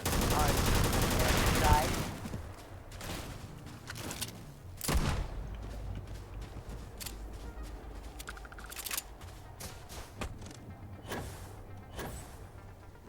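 Pistol gunfire in the sci-fi video game Starfield: a dense burst of shots at the start, then scattered single sharp reports at uneven intervals, loud and close, with game sound effects and brief talk.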